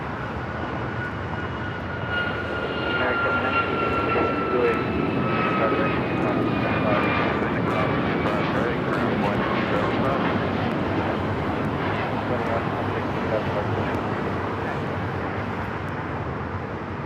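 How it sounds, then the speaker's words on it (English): A United Airlines Boeing 737 MAX 9 jet takes off from Los Angeles International Airport, its engines roaring loud and steady as the sound swells and rolls on through the whole stretch. "Next takeoff here on the south side of flight heading to Orlando, Florida. United Airlines flight 1621"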